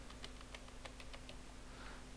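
Someone types a root password on an English-layout computer keyboard while installing CentOS: a quick run of about eight crisp keystrokes over a steady low hum, with no talking.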